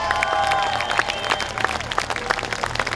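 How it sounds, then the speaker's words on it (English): Crowd applause and cheering at Albany Speedway during the Super Sedans Australian Title A-Main, a dense patter of many hands under a steady background hum, moderately loud and continuous. "Big round of applause for this driver, ladies and gentlemen."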